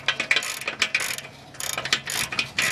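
A 7/8 inch ratcheting wrench breaks loose the rear O2 sensors on a Ford Mustang, producing close, loud bursts of rapid clicking in short uneven strokes, alone without speech.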